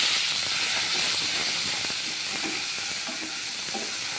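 Pumpkin leaves fry in a pan while being stirred, giving a soft, continuous sizzle and hiss with light scraping strokes, close by and without talk.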